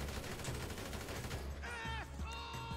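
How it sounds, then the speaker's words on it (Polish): Rapid gunfire in GTA Online, aimed at a vehicle, crackles as a dense, loud burst of shots across the whole clip, with steady repeated cracks and no talking. "Po ilu strzałach on eksploduje"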